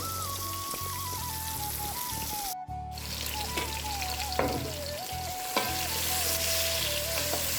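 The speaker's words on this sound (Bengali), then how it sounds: "এই যে মাছগুলো ভেজে নেওয়া হচ্ছে" Rohu fish pieces fry in oil with a loud, busy sizzle and popping, while a steady melodic tone runs underneath and briefly cuts out midway.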